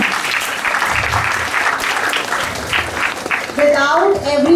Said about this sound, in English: So a big round of applause to every staff member of Smart Wonder School.